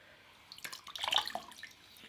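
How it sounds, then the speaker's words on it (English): Fresh water rinsing cleanser off a face at a sink, heard as quiet splashing and dripping that swells in the middle of a short stretch and fades again, with no talking. "get some fresh water and go over my face with the fresh water just to make sure that all the cleanser's off"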